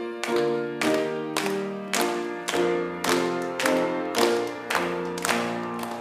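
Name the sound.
congregation clapping along during a hymn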